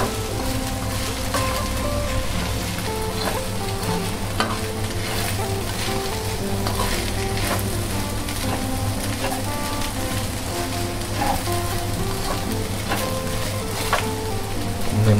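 Chinese fried rice (nasi goreng Cina) frying in a pan gives off a loud, continuous sizzle with faint stirring clatter. The sizzle holds steady through the whole stretch, with no talking.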